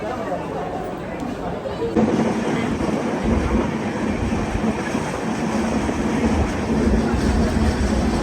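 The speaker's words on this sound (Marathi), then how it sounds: "ट्रेन आलेली आहे, बसला आता ट्रेनमध्ये" A train rumbles steadily with a constant low drone, while people chatter in the background throughout.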